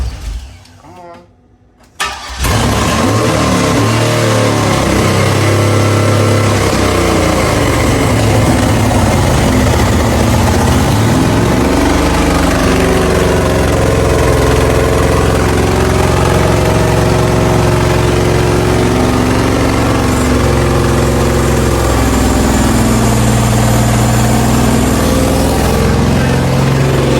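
An LS-swapped BMW E36 cranks and fires after a short quiet start, then settles into a loud, steady V8 idle with a deep rumble that runs close-up for the rest of the stretch.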